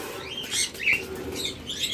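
Pet lovebirds and budgerigars, young adults of about 14 to 18 months, chirp and tweet in short bursts with brief wing flutters, moderately close, with no talking.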